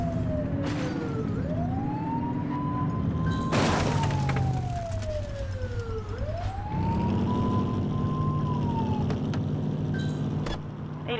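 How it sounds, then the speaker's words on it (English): Police car siren in a video game wails in long rising and falling sweeps, loud and continuous, with a deep engine rumble beneath and a sharp thump partway through. "Get behind them and flip the siren to make them pull over."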